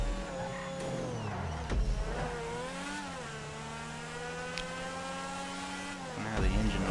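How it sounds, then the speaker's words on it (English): A supercar engine in GTA Online revs and climbs through gears, with steady whining harmonics that rise and dip, fairly quiet and continuous throughout. "now the engine noises ain't really anything to write home about"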